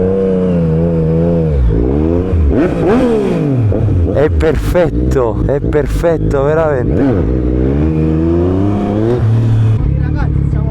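A motorcycle pulls wheelies on an open lot, its engine revving hard in rising and falling surges, close and loud, while someone talks briefly nearby.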